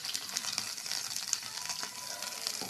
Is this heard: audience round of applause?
no